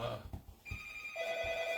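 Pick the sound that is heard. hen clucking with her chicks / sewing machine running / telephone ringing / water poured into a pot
telephone ringing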